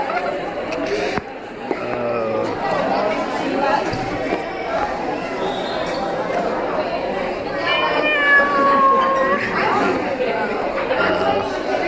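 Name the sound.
girl imitating an angry cat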